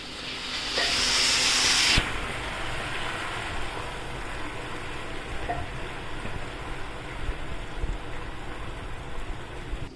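Steam rushes out in a loud hiss for about two seconds as a pressure cooker of dal is opened, then settles into a quieter, steady steam and bubbling.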